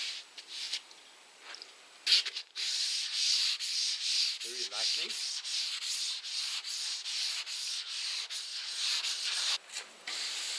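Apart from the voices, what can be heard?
wet sanding with 1000 grit sandpaper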